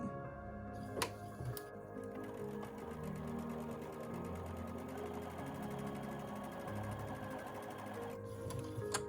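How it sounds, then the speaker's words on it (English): Steady, fast mechanical whirring and ticking of a sewing machine stitching a quarter-inch seam in a quilted Christmas table runner, running continuously at close range with a brief pause near the start and no talking. "I'm just going to mark that center and sew my 1/4 inch seam"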